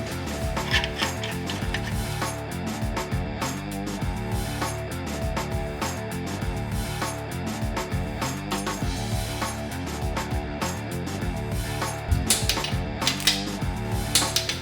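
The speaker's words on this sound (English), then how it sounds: "the cast main cap secured by torquing the main bolts to" A torque wrench tightens the cast main cap bolts to 100 foot-pounds on a racing Jeep engine build, giving close, sharp ratcheting clicks in quick bursts with brief pauses, along with some metallic clatter and no talking.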